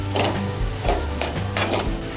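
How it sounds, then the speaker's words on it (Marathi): Tempering of turmeric, red chilli powder and goda masala sizzling in oil for dal khichdi, a constant crackle with three or four distinct spatula scrapes against the pan. "फोडणी आपली तयार झालेली आहे"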